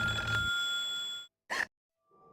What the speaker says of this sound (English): That phone's gonna ring.